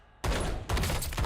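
Loud bursts of gunfire from the action game Lies of P, a sudden blast followed by a second sustained volley, close and harsh with no talk over it.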